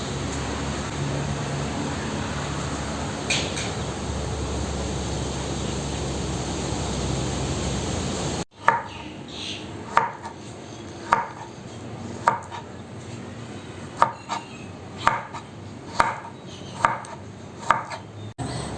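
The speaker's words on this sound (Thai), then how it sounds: "ปอกให้เสร็จแล้วเราค่อยหั่นทีเดียวค่ะ" After a stretch of steady background hum, a knife chops through firm santol fruit on a board in evenly spaced, crisp cuts, close by.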